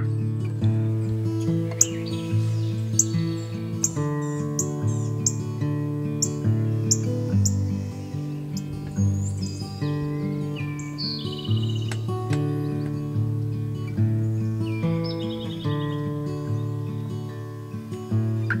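Wild turkey hens make assembly calls in Indiana woods. Repeated yelping calls come from somewhere behind, moderately distant, in an overlapping chorus with no voices over them.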